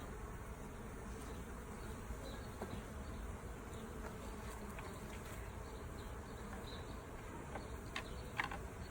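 Honey bees buzz steadily at an open hive during an inspection, a dense, continuous drone close by with a few louder individual bees passing near, no talking.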